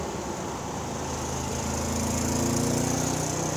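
A 1961 Chevrolet Corvette with fuel injection cruises in fourth gear around 2,000 RPM, its engine giving a steady, continuous drone heard from inside the car, growing slightly louder toward the end with no speech.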